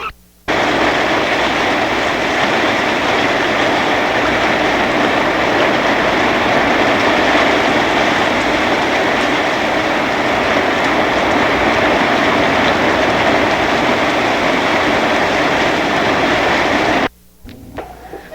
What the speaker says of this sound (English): We're having quite a thunder shower, and I thought we'd better record it.